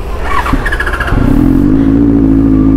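Superbike engine while riding: a close, loud motor with a brief squeal, then a rising drone that settles into a steady, strongly harmonic engine note.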